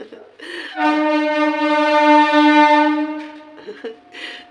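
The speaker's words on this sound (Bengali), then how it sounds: "শুনে নিলে ট্রেনের আওয়াজটা" A long, loud train horn blares for a couple of seconds, steady and close, with brief noise before and after.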